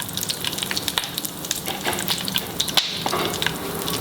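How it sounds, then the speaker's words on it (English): Curry leaves fry in hot oil for a mutton kofta curry, giving a steady, close crackling sizzle with dense popping spatters throughout and no talking. "Let it fry properly."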